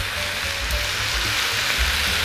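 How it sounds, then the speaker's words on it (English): Loud, continuous sizzling and crackling close up as water hits a very hot wok of frying cabbage on a Weber grill, with low clunks underneath. "I'm gonna add a little bit of water to the mix. Not a lot, just a little bit. Probably gonna sizzle like crazy."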